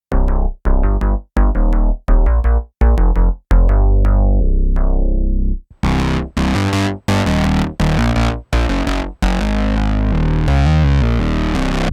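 Heavily fuzzed, distorted bass and music tracks through an Electro-Harmonix Big Muff Pi play loud, starting with choppy stabs separated by short gaps, then continuing in sustained gritty chords.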